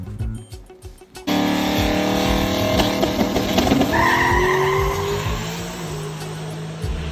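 A no-prep drag race truck launches hard after a quiet start, its engine roaring loud and close with screeching tire squeal and rising revs that hold for several seconds before easing.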